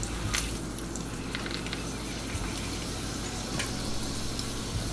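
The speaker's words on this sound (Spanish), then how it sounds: "ahora vamos a freír las tortillas" Steady crackling sizzle of tortillas frying in hot oil, continuous and close, with a few small pops and no voices.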